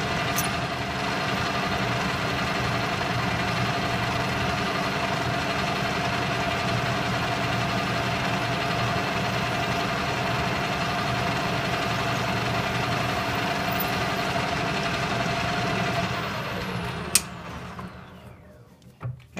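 A metal lathe runs steadily while drilling a hole to depth with the tailstock, a loud continuous motor hum with a faint whine, holding even for most of the stretch before spinning down near the end.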